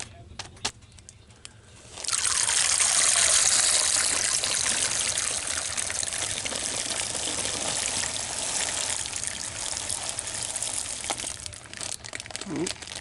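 Water pours steadily into a pot of dry lentils, a loud broadband gush starting after a couple of seconds of quiet and continuing as a sustained rushing stream to the end.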